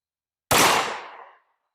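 A single sharp gunshot from a Ruger LC Carbine in 10mm, firing a handload, cracks out loud and close out of silence. Its echo then fades for just under a second.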